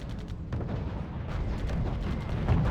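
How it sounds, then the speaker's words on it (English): Anti-tank guns firing in the strategy video game RUSE, a dense rumbling barrage of low booms and bursts running continuously through the clip at steady loudness. "lots of AT guns shooting at him"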